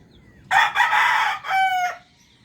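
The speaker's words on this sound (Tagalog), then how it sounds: "Pakain sana ako ng manok" A nearby farm rooster gives one loud crow in a few drawn-out segments, with some hen clucking around it, against a quiet background.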